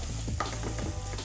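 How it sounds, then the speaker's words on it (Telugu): Ginger garlic paste frying in a pan, a steady sizzle with the soft scrape of a spoon stirring through it, close and continuous. "ఇవన్నీ బాగా ఫ్రై అయిపోతున్నాయి కాబట్టి"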